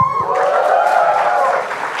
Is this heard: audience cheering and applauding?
yes